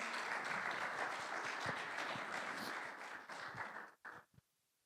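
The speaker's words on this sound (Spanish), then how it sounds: "Dale un fuerte aplauso a Dios." A church congregation applauds after a sermon, a dense, fairly distant wave of clapping that swells, then thins and stops abruptly near the end, leaving a few last scattered claps.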